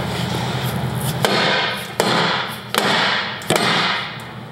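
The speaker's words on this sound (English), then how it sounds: "Then I'm just gonna hammer this that direction" Four sharp metallic hammer strikes on a clamped Ford 10.5 axle part ring out at uneven intervals over a steady background hum, each blow loud and close.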